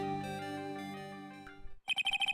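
A phone ringtone in the Phoenix Wright: Ace Attorney video game plays as a sustained electronic tone, then breaks into a quick run of short, bright, repeated rings near the end, with no talking over it.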